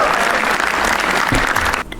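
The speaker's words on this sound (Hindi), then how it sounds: "उर्जिता वानी के लिए तालियां प्लीज" Dense, loud applause from a comedy show audience fills the room steadily, then cuts off abruptly near the end.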